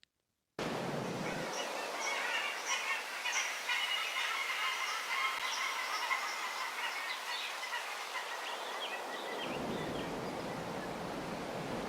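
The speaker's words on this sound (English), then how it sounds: "the shoreline of a very quiet beach where the local seabirds look for things to eat" Seabirds forage along a very quiet beach shoreline, their scattered calls and chirps rising over a steady soft wash of surf that fills the scene throughout, with no voices present.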